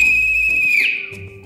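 A toy whistle gives one loud, steady shrill tone that holds for most of a second, then bends down and trails off into quiet.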